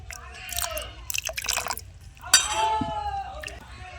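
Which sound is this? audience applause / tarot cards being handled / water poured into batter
water poured into batter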